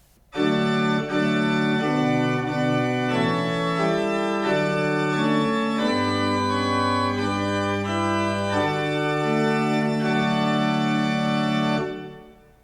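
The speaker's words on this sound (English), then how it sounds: "If I add one more stop to that principal, it's called the principal chorus" Full pipe organ principal chorus plays a slow hymn-like chord progression, rich and loud, chords changing every second or so before cutting off at the end.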